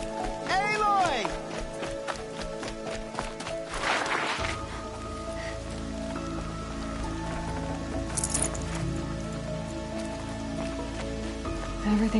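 Rain falls steadily in the video game Horizon Zero Dawn, a continuous hiss of drops on surfaces under in-game music and voices, with a few sharper taps and rustles early on.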